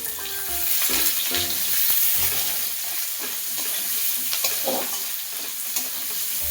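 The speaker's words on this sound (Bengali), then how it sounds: "পেঁয়াজ হালকা করে ভেজে নেওয়া হচ্ছে" Onions frying lightly in oil in a pan with cumin seeds for a jackfruit and prawn curry, a steady close sizzle with intermittent stirring and scraping clatters throughout.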